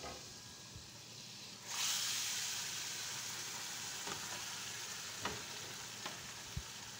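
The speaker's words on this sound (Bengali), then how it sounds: "তো এই ফুল দেওয়ার পরে এটা অনবরত নাড়তে হবে, নয়তো নিচে লেগে যাবে।" Steady sizzling of blended foul medames frying with spices in a pan, a louder hiss rising partway through, with faint scrapes and clicks of stirring, no voices.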